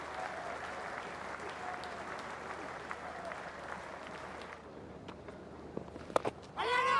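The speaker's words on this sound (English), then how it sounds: "Warm applause from the many travelling English supporters." Warm applause from a crowd of travelling English cricket supporters at a Test match ground, steady and fairly distant, fading slightly near the end.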